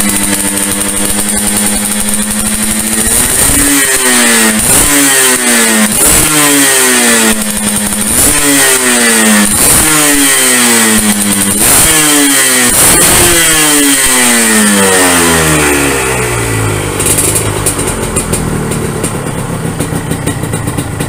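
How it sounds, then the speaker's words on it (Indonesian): A Suzuki RGR 150 two-stroke motorcycle engine, old but running fairly smoothly, revs loudly and close in repeated rising blips that fall back to a crackling idle, about eight throttle bursts before settling. "Suaranya seperti ninja dua tak yang masih orisinil ya."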